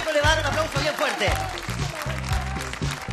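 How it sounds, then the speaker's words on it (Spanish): A studio audience at a Chilean televised talent show claps loudly and steadily while a voice talks over the applause. "el público le va a dar un aplauso bien fuerte"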